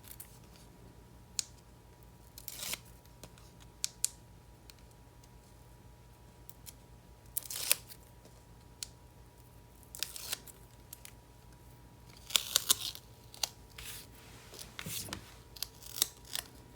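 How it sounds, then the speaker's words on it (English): Scissors snip through strings on a handmade stamped card, a series of sharp, scattered cuts spaced several seconds apart against a quiet room background, with no talking. "I'm gonna cut those strings off in just a minute."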